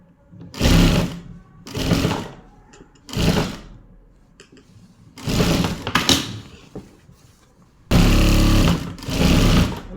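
A sewing machine runs a double stitch in short bursts, five or six loud whirring runs of about a second each separated by pauses with small handling clicks, close up and without talk.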